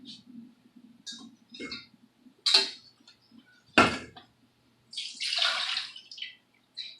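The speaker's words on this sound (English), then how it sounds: "Okay, so we're going to add 2 cups of water." Two cups of water pour into a bowl of bread dough in a home kitchen, with a few short splashy bursts and a longer pour near the end. Quiet voices and a low hum sit underneath.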